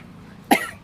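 A woman with a cold gives a single short, sharp cough, close by, in an otherwise quiet moment.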